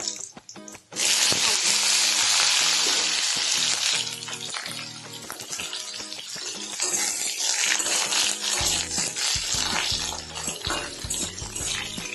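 Vegetables sizzle loudly in a hot pan for a vegetarian ridge gourd and potato curry, a steady hiss of frying that swells early and then continues with crackling and clatter, no talking.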